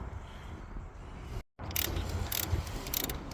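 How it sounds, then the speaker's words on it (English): Ratchet wrench working a bolt loose from a transmission mount bracket on a D16Y5 automatic, steady clicking ratchet strokes up close after a brief pause, with faint background noise throughout. "removing the last bolt of this bracket here, or transmission mount"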